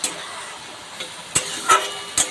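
Chopped tomatoes added to a pan of spice mix for a vegetarian curry: a steady soft sizzle with a few sharp clinks of a utensil against the pan, close and without talk.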